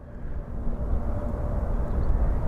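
An Embraer 175 airliner, a United Express flight arriving at Sky Harbor Airport, makes a low, distant rumble that slowly builds in loudness as it approaches, with no talking.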